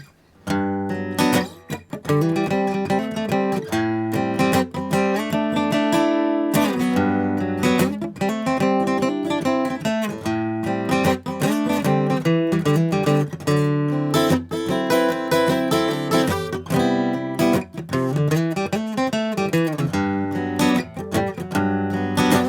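A guitar plays a continuous run of plucked notes and chords, ringing and fairly loud, with no voices.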